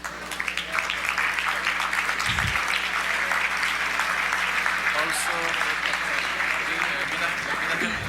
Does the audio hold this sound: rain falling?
no